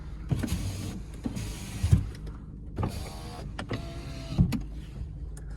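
Power windows of a 2000s-era VW Golf 4 with a 1.6 petrol/LPG engine hum up and down in repeated cycles, each motor whine ending in a soft thunk, close and clear.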